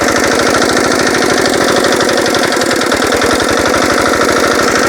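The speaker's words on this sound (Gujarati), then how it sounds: "આ ટ્રેક્ટર કઈ રીતના ચાલે છે" A nano tractor engine runs in a cotton and groundnut field, chugging loud and close with a fast, even rhythmic knock that holds steady throughout.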